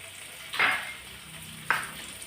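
Crushed small shallots drop into hot oil for a potato mezhukkupuratti, setting off a loud sizzling burst, then a second sharper burst follows as more go in, both fading back into a steady low frying hiss.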